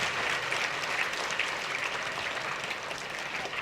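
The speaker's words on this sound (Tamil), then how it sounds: "அதை உருவாக்கி ஆசிரியருக்கு கைத்தட்டுங்க." An audience claps at an actor's talk, a short, steady burst of many hands applauding close and loud, with no break in the sound.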